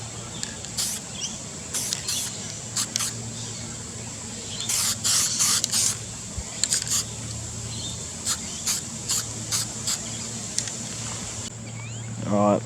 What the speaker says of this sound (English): I'm just going to spray the top of them with some clear coat